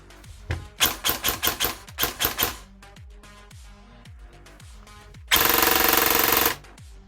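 An LCT HK33 A2 airsoft rifle with an upgraded brushless motor fires in several short bursts, each a rapid mechanical chatter, followed by a longer, louder sustained full-auto string near the end, all close and without talk.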